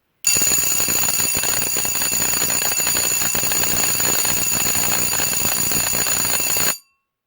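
An Edwards Adaptabel No. 340 four-inch electric bell with a painted gong rings continuously for about six seconds, a loud, steady, buzzing metallic clatter with little ringing decay, stopping abruptly.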